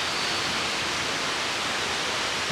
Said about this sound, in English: There's the lazy river.